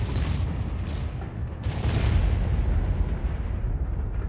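Heavy, rumbling video game explosions boom in a continuous low roar, with a couple of sharper bursts near the start; no voices.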